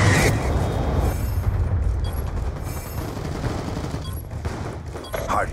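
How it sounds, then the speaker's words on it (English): Heavy explosions and dense gunfire from a missile strike in a first-person shooter video game, a continuous loud rumbling barrage throughout with scattered crackles. "Friendly Hellstorm missile inbound."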